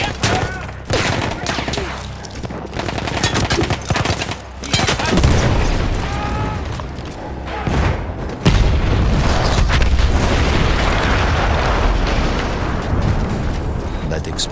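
Gunfire and explosions from the Battlefield 1 video game: dense, loud bursts of shots and heavy booms roll almost without pause, with a big blast near the middle and rumbling, crackling fire after it.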